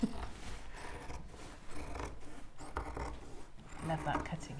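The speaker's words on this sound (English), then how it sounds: "Love that cutting out sound." Large scissors snip and slide through fabric in repeated rasping strokes, close by, with people chatting over the cutting.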